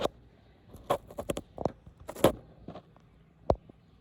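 Rain falls outdoors on a rainy day near wasp nests, heard as sparse, irregular drops tapping and pattering on nearby surfaces. The taps are close and distinct, separated by quiet gaps.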